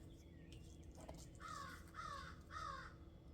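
A crow caws three times outdoors, the harsh calls evenly spaced and moderately near, heard over a steady low background hum with no speech.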